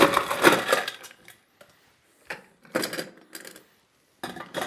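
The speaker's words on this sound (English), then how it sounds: "Now what I want to do is get a little bit more ice in that glass." Several sharp clinks and rattles as ice cubes drop into a glass, coming in separate bursts with short pauses between.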